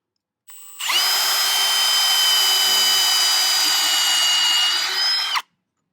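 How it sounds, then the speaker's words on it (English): A power drill whirs steadily into wood at a 45-degree angle for about five seconds, a loud continuous high-pitched motor whine with a brief spin-up at the start and an abrupt stop. "This is the drill bit that I'm using, and basically I'm going in about a 45-degree angle."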